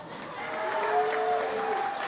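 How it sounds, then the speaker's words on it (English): A seated audience at a veterans' fashion show event breaks into a steady round of applause, a dense wash of clapping that swells slightly mid-way and holds for about two seconds, with faint voices mixed in. "So give them a round of applause."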